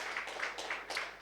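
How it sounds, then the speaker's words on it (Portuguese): A church congregation claps in rhythmic bursts during a communion service, faint and distant, a few regular pulses of hands over a short stretch. "Aplauda o Senhor bem forte, irmãos."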